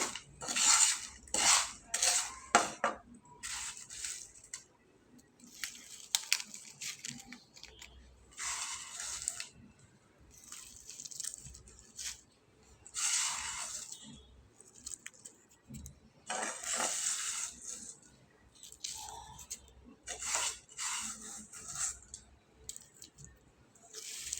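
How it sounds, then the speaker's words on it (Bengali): A mixed dried fish bharta is ground by hand on a shil-pata stone, with repeated gritty scraping strokes in uneven bursts, fairly faint and close, with no talking. "এখানে আমি শিলপাটায় বেটে নেব"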